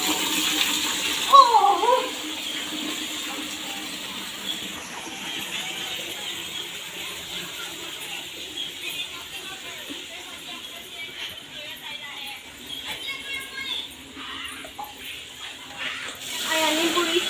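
Water poured from a vessel onto plants and trees, including lemon and ajwain, in a garden, a steady splashing trickle through most of the stretch with a person briefly speaking.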